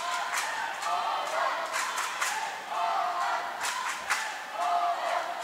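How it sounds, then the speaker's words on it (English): Dutch supporters in the stands at a women's wheelchair basketball world championship quarter-final cheer steadily, with a crowd roar rising and falling and bursts of shouting throughout. "big Holland fans here in the crowd"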